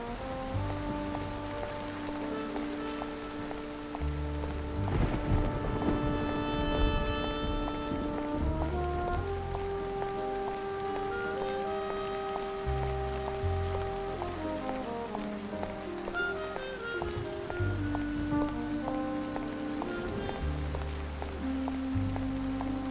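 Heavy night rain falls steadily in the noir detective game Face Noir, a constant hiss of drops spread evenly across the whole stretch, under a sustained musical score with no speech.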